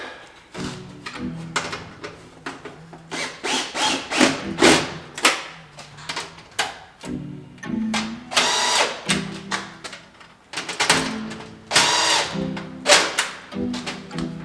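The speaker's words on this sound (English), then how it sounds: "I'm going to go ahead and use my socket and my drill and tighten these up" A power drill with a socket whirs in repeated short bursts, each ending in a thud or clack as bolts are driven tight on a 1985 Jeep CJ7 fender and tub, up close with pauses between.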